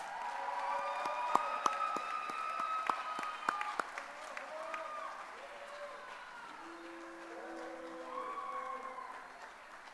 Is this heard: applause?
yes